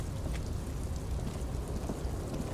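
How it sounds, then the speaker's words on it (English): Steady rain falls in the Disco Elysium video game, a soft continuous patter of drops on a surface with a faint low rumble beneath, even and unbroken throughout. "the raining sound effect has been on this whole time, and I don't want it to stop"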